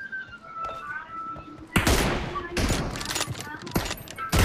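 M24 sniper rifle fire in PUBG, sharp loud cracks starting partway through followed by echoing bursts and a final close shot, with someone talking over the quieter opening before the shooting begins.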